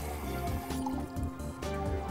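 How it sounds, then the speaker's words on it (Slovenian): Water splashes and gurgles as it is poured into a pot of sugar for cooking apples, a close, continuous filling sound with brief breaks. "pa še malo vode bom dal, zato ker imam šest jabuk."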